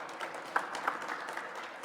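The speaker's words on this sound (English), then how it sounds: "let's give a round of applause for this great sunshine on the banks of Lake Erie this afternoon" Outdoor audience applause at a lakeside event on the banks of Lake Erie in Cleveland, a fairly quiet, brief spatter of clapping from a modest crowd with a couple of sharper claps standing out.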